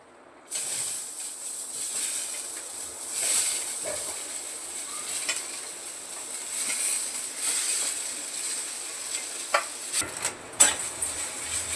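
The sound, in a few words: onion being dry-roasted and stirred in pan without oil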